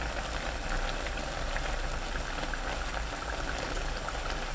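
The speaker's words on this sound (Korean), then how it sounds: "뚜껑 열고 국물 끼얹으면서 센 불로 2분 익힙니다." Braised sand lance bubbling hard in broth over high heat, a loud, continuous rolling boil with dense crackling pops, close by and without talk.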